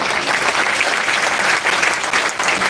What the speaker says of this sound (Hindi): तालियों के साथ स्वागत है भाई।